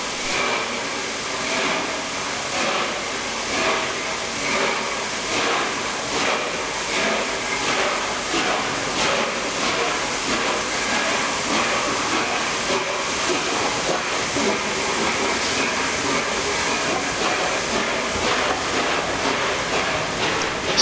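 Steam locomotive 60163 Tornado, built 2008 by the A1 Steam Trust, hissing and rumbling steadily on a heritage rail run near York, with a broad, continuous wash of steam noise and faint rhythmic clanks throughout.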